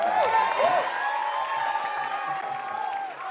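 Audience of high school students at a motivational session before exams bursts into applause and cheering, a broad crowd roar over a sustained electronic hum, with whistle-like tones early on.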